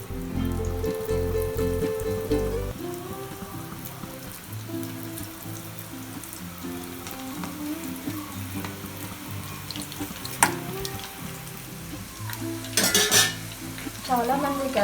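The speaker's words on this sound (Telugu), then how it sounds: "ఆయిల్ అనేది బాగా మరిగిందండి. మనం ఇలాగ 2 వేళ్ళ మధ్యలో నుంచి ఇలా వేసుకుందాం." Onion pakoda batter fries in hot oil with a continuous bubbling sizzle. Pans and utensils clatter and clink on and off throughout, with a louder clatter near the end.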